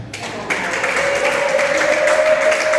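Applause for Moise and his family from the gathering at a Kinyarwanda-language wedding ceremony performance at Kibogora Polytechnic, starting abruptly and filling the room as a steady wash of clapping, with a sustained tone running beneath it.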